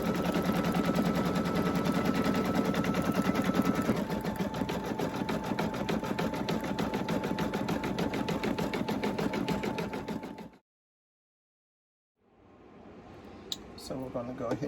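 An embroidery machine stitching a sublimation patch, rapid loud mechanical chattering at a steady pace that stops abruptly, followed by brief silence and then faint handling noises.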